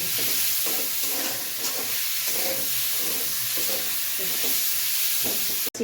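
Chicken fries in hot oil for fried rice, a steady loud sizzle with rhythmic scraping as it is stirred in the pan, ending in a sharp knock.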